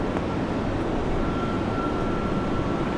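An airliner takes off from runway 01 right at Brisbane Airport, its engines a steady, dense broadband roar heard at a distance, unchanging and with no talk over it.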